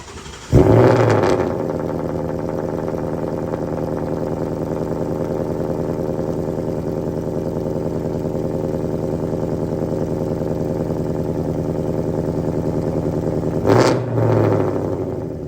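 A Ford Mustang, freshly fitted with Pedders coilovers, starts off with a brief rev, then drives on with a steady mid-pitched engine drone and road rumble heard from inside, ending with another short surge of throttle.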